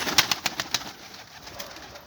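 Pet pigeons cooing nearby, a short run of soft repeated coos at the start that trails off into quiet background.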